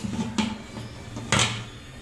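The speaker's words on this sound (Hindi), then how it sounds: "और अब हम कुकर को बंद करते हैं" A pressure cooker lid is pressed shut over salted, overnight-soaked chickpeas in a home kitchen, giving two short metallic clunks about a second apart against quiet room noise.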